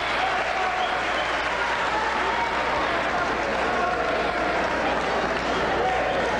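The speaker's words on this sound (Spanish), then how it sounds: "y termina el round en aplausos." At the close of a round in a Peruvian junior welterweight title boxing bout, a crowd applauds in a continuous roar of clapping and cheering, steady and full throughout, with a commentator's voice underneath.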